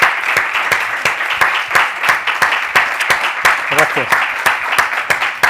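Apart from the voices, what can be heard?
audience applause for the guest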